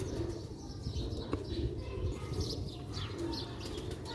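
Black-faced Sialkoti pigeons coo in a low, ongoing murmur while short bursts of wing flapping and light chirps break through now and then, all close and moderately loud.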